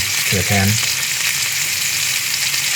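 Tilapia pan-fries in oil with a loud, steady, close sizzle, a brief low voiced murmur near the start, then continuous crackling hiss.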